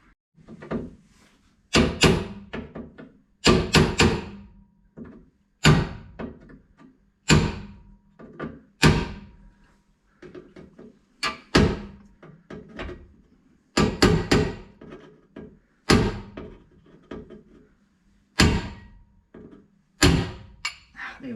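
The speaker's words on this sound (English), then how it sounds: "Maybe a little hammer and a punch." A small hammer drives a punch to bend metal hooks over during a car headliner installation, with sharp, close knocks landing singly and in quick clusters, separated by quiet pauses.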